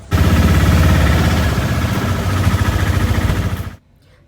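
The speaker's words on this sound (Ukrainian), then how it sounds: "назва тук-тук виникла завдяки характерному звуку, який видає двотактний двигун." A loud, rattling two-stroke tuk-tuk engine runs steadily for several seconds with a rough low throb, then cuts off abruptly.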